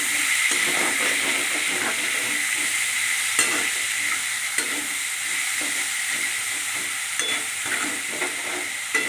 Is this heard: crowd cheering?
no